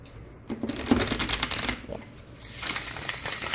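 Luna Sol tarot cards being side-shuffled by hand, a close run of soft papery riffling and slapping bursts that come and go in two main stretches, with no talking.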